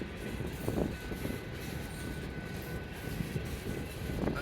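A short Conrail freight train with tank cars rolls past at close range, giving a steady broadband rumble and wheel noise with wind buffeting the microphone.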